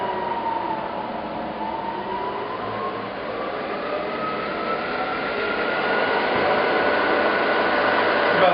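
The head of a used Southwestern Industries two-axis CNC vertical milling machine runs with a steady, fairly quiet mechanical whir and faint whine that holds evenly and swells slightly toward the end, with no voices.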